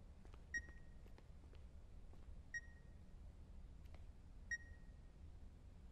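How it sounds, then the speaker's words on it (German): Electronic beeping from inside an animal carcass hung on a rope in the video game The Beast Inside, heard as sharp single beeps about every two seconds over a quiet, low ambient rumble. "That beeping. It's as if it's coming from the inside."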